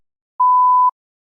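A single clean electronic beep from a TOEFL speaking test, a steady mid-pitched tone lasting about half a second, alone in silence.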